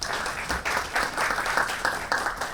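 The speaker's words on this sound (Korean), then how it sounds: "내빈 여러분께서는 큰 박수로 맞이해 주시면 고맙겠습니다." An audience at a public diplomacy case-presentation event claps warmly for an incoming presenter, a dense, steady round of applause with slight surges, close and filling the room.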